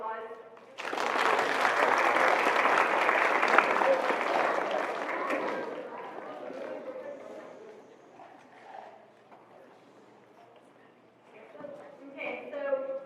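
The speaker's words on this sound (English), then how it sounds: "if we could all give them a big round of applause" An audience at an FFA banquet breaks into a big round of applause that stays strong for several seconds, then thins out as voices take over and talk continues.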